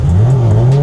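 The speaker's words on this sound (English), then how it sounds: "Let's get some revs in." An air-cooled car engine, warmed up and running off a jump-started battery, revs in one loud, close burst with a rising and settling drone.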